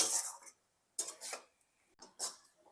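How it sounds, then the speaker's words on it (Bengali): Grated coconut and jaggery are stirred in a pan on low flame, giving soft scraping, rasping strokes in short bursts separated by near silence, quiet and close. "নারকেল কোড়াটা দেওয়ার পর এখন মিশিয়ে নিচ্ছি গুড়ের সাথে, ভালো করে মিশিয়ে নিচ্ছি"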